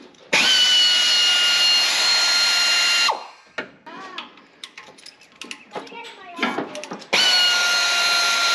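A power tool whirs loudly in two long sustained bursts while the exhaust manifold comes off a Pontiac Firebird. Between the bursts someone speaks and clanks and knocks are heard close by.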